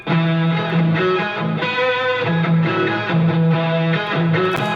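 An electric guitar plays a repeating riff with a higher octave line doubling it, steady and full throughout.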